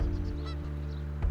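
Geese honking in the marshes of the Bear River delta, a couple of close, loud nasal honks overlapping in a brief burst with no talk.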